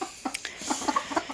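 A Froment hen in a straw-lined cage gives a short series of soft, close clucks, several quick notes spaced irregularly over just over a second.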